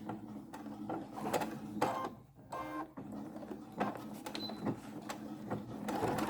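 Domestic sewing machine stitching and backstitching a triple-layer washable fabric face mask, with short bursts of rapid mechanical whirring broken by pauses and small clicks, close and fairly quiet.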